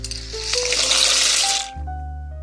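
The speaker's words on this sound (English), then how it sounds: "To a pot of boiling salted water, we're going to add in our shell pasta." Dry shell pasta pours into a pot of boiling salted water, a loud bubbling, rushing wash of water that cuts off sharply, leaving a steady low hum behind.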